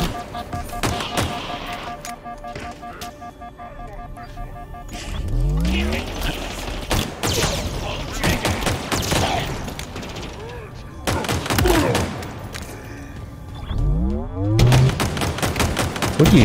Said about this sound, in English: what is he shooting at me?